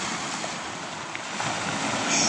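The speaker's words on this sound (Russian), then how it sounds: "шумливое море" Sea waves wash and break steadily on a shore at a Black Sea beach in Sochi, with a continuous loud surf roar and wind buffeting the microphone.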